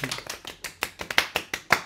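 A burst of about a dozen sharp hand claps at a quick, slightly uneven pace, close and crisp, with no talking.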